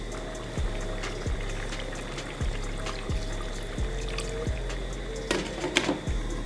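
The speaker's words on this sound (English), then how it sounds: "I'm going to add a little water to it because it is kind of thick." Water pours and trickles into a cooking pot of Jamaican brown stew turkey neck with butter beans, a soft continuous flow with faint clinks and bumps.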